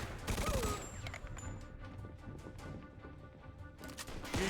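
Bursts of gunfire rattle through a Mafia II shootout, dense sharp shots running continuously at moderate level with little talk.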